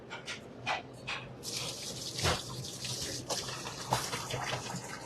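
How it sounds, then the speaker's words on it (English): Hands washed under a running kitchen tap, water splashing and streaming steadily into a sink for a few seconds after some brief handling noises, close and clear. "we're gonna clean our hands"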